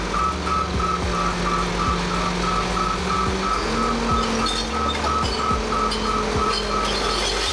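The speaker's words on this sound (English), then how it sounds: "This is a dump garbage truck used for transporting loose waste materials and unloading them quickly at landfills or recycling centers." A dump garbage truck for loose waste idles and rumbles steadily, with a repeating tonal beep pulsing throughout and occasional clanks over the engine noise.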